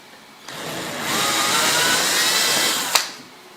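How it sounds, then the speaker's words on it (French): An electric drill bores a 10 mm hole through a wooden workpiece into a scrap backing board, a whirring burst that rises, holds at full speed for about two seconds, then ends with a sharp click as it stops. "Prenez une planche martyr pour ne pas abîmer votre pièce ou votre table et vous percez."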